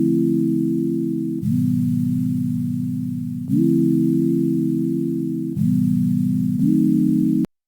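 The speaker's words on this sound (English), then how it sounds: "I have long sine wave chords that just play like this" Long, smooth synth chords made of pure sine tones hold and change a few times in slow succession, then cut off abruptly.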